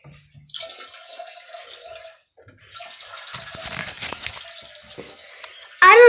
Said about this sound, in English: I'm gonna turn the water on real quick